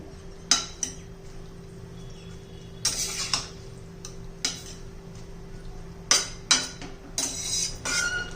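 Shredded cabbage being stirred in a pan for a Malvani-style bhaji: a spoon or spatula clinks and scrapes against the metal in scattered sharp knocks over a quiet, steady background, with no talking.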